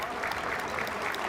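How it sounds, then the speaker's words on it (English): Crowd applauding steadily at a high school girls' basketball game in a gym, a dense continuous clapping that fills the space at moderate volume. "Gets the round of applause as Michelle Kelly shepherds her off the floo"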